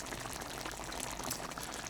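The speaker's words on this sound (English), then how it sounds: "I'm after pouring in the gravy, so I'm going to bring it to a simmer again" Gravy bubbling at a steady simmer in a pan, with a dense continuous crackle and fizz and no talking.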